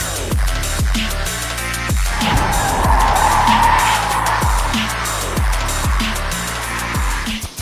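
A BMW F10 sedan under hard acceleration, its tires skidding and squealing in a loud, continuous screech over the engine's roar, close and sustained throughout with no talking.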